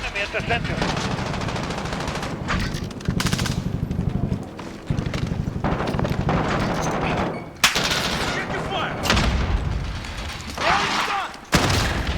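Shotgun blasts and other gunfire crack repeatedly in a chaotic multiplayer Call of Duty firefight inside a warehouse, loud and dense with bursts and short pauses, with game effects throughout.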